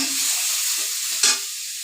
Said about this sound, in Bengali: অল্প লাড়াছাড়া করলাম